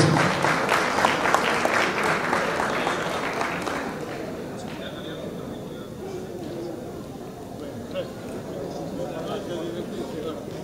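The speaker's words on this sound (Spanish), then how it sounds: "y el aplauso, el reconocimiento para ellos, señores, por todo el trabajo realizado durante este año 2010" At a Mollendo community festival held in Paterson, New Jersey, a crowd applauds loudly for about four seconds. The clapping then fades into a low murmur of voices and background activity.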